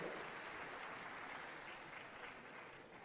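Applause from an auditorium audience welcoming a guest at a literacy day fair in Pandit Deendayal Upadhyay Auditorium, a steady, dense wash of clapping that holds at an even level throughout and fades slightly toward the end.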